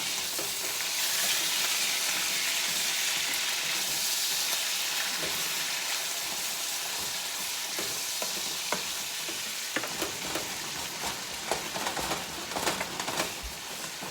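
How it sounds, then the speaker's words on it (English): Ground beef frying in a pan gives a continuous sizzle, with a spoon scraping and stirring through it in irregular clicks and strokes, close and fairly even, no talking. "Let's go ahead and give these ground beef a little stir."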